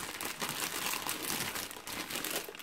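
Packaging being unwrapped, with dense continuous crinkling and crumpling of plastic or paper right up close, steady throughout the short stretch with no voices.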